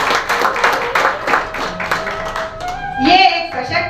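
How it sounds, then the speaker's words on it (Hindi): Audience applause at a foundation's anniversary celebration in Nashik, a dense run of clapping from a seated crowd for about four seconds with a raised burst near the end, heard under and alongside speech. "सुबोध मिश्र जी के लिए जोरदार तालियां।"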